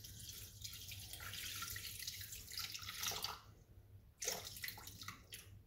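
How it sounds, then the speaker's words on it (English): Lukewarm water is poured into a Thermomix bowl for pizza bianca dough, a close, steady stream with splashing that pauses briefly and then resumes, with no voices. "220 grams of water."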